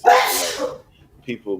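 A single loud sneeze bursts out close by at the start, then a voice speaks briefly after it.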